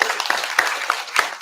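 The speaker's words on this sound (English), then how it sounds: "If you get a round of applause" A small online tournament crowd gives a round of applause for the first-place winners, a dense wash of clapping with a few sharper individual claps standing out at a steady pace.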